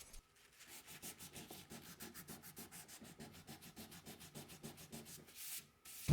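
Hand sanding over dents on a wooden dresser drawer, a steady back-and-forth rasping of sandpaper on wood in quick, even strokes, close and moderately loud with no talking.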